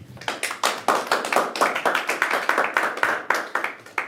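A church congregation claps in quick rhythmic unison, loud and close, with sharp evenly spaced hand strikes through the whole clip and no speech.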